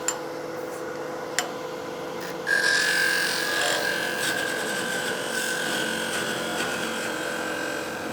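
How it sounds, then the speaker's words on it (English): A woodturning tool takes a scraping cut on figured maple end grain spinning on a lathe, a close, continuous rough rasping with a faint whine. Two light taps come first, then the cut starts and keeps going. "the type of cut that I'm making is a scraping cut, so this side of the edge is really tearing out the end grain fiber"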